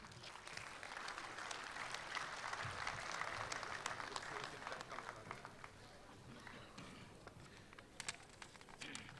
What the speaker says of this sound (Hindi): आपकी बहुत सारी तालियों में सैयद सलाहुद्दीन